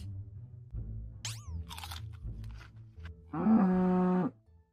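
A cartoon cow in a Minecraft animation lets out a loud, sustained moo near the end, preceded by crunching and chewing sounds and short squeaky bursts.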